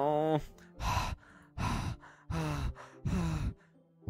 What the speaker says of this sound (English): Sounds like breathing. Sharp inhale, like someone is sucking through the air through their teeth.